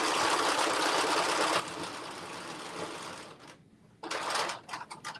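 Sewing machine stitching bias tape onto a garment, running in a steady, close whir for over a second, then slowing and stopping, followed by short separate bursts of stitching.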